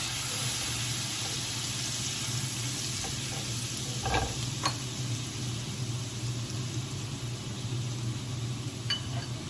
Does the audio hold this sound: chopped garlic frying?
yes